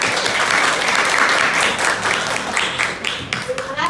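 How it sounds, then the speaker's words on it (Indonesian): Classroom audience applauding student presenters, a dense, loud burst of clapping that holds steady for several seconds and thins toward the end, with some voices mixed in. "silakan beri aplaus untuk yang presentasi dan yang memberikan tanggapan"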